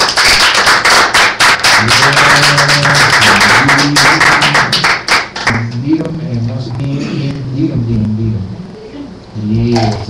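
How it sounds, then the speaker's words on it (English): A worship congregation claps hands in praise, with rapid, loud, dense clapping over music with a voice, then the claps thin out as singing carries on, with a brief burst near the end. "give your Father a hand clap of praise"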